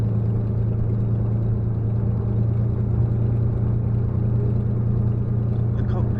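Steady, loud drone of a Spitfire aircraft engine taxiing toward the runway, heard close and continuous with a constant low growl and no sharp changes.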